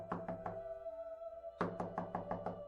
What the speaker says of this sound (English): another knock was on the door.